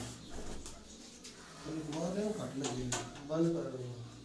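Racing pigeons cooing on a rooftop during a pigeon flying contest, soft low coos repeating a few times in the latter half, faint and close, with a voice talking over them.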